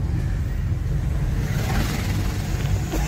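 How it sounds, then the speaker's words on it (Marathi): A car on a road trip near Lonavala, headed first to fill up with petrol, gives a steady, close engine and road rumble that holds evenly throughout, with no voices. "गाडी चालवतोय"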